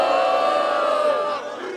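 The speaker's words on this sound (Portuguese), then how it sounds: "Barulho pra essa batalha, família!" Crowd cheering and shouting at a rap battle at the Roda Cultural da Rocinha, a dense sustained roar of many voices that stays loud throughout and eases slightly near the end.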